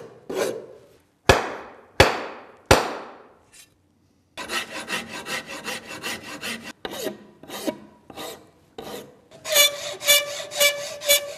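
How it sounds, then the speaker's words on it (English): A steel file rasps wood off an axe handle at a blacksmith shop, first in a few slow, separate strokes, then in quicker continuous scraping runs, close and fairly loud with no talk. "All the spots that are marked dark are the areas where I need to file off"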